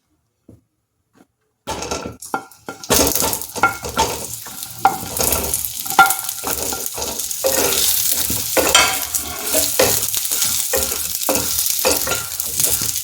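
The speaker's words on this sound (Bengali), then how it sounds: "এবার আমি পটলগুলো এই তেলের মধ্যে দিয়ে দিচ্ছি।" Pieces of pointed gourd drop into hot oil after a brief quiet start, setting off a loud, crackling sizzle that builds and holds steady, broken by sharp spatters and clanks of the pan.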